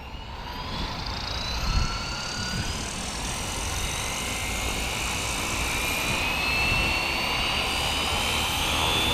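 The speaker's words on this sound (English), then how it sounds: "as soon as it starts, we're gonna let off and let the helicopter spool up." An FW450 V3 GPS RC helicopter spools up its rotor in a steady whine that rises in pitch over several seconds, with a continuous broadband rush of rotor wash close by and no talking.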